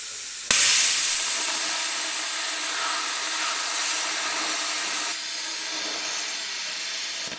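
A plasma cutter cuts holes into a stainless steel tank, a loud steady broadband hiss that starts abruptly, runs continuously for several seconds and changes tone slightly near the end, with no talking.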